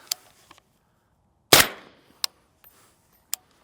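Gunshots from a 13.5-inch .308 SIG rifle fired with a suppressor sound as one loud, sharp crack with a short decaying tail, followed by several fainter, distant pops from other shots at a range.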